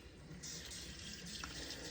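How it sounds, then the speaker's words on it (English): Water trickles faintly and steadily into chopped garlic in a food processor while palak paneer is being prepared, a quiet pour with no voices. "We're going to add a little bit of water to this."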